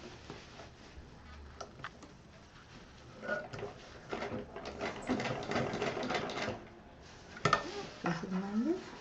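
A sewing machine runs in short and longer bursts as it stitches along the zip of a homemade bangle case, close and moderately loud, with light clicks and handling noises between runs.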